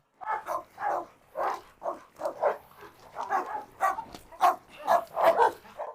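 A string of yelping, whining barks, several per second, fairly close and unbroken, like dogs excitedly calling out around sheep.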